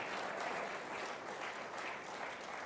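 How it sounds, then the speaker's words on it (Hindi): A live seminar audience claps steadily for a few seconds, dense continuous applause filling the hall at an even level without a clear peak. "उसके लिए इतनी सी ताली आपने बजाई तो बड़ा अच्छा नहीं लगा यार"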